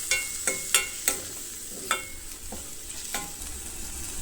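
Chopped tomatoes sauté in a pan for chicken masala, stirred with a spoon that knocks and scrapes the pan in a quick series of sharp strikes over a steady sizzle, close and loud.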